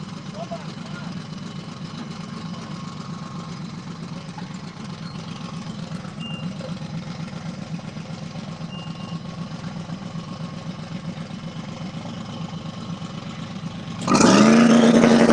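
Small tire drag race car idling at a no-prep race, a steady low engine drone throughout, then a sudden loud rev near the end.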